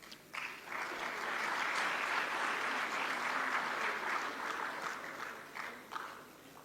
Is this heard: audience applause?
yes